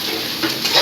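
Four tomatoes being stirred and sautéed in a pan give a brief, close sizzle with soft scraping stir sounds.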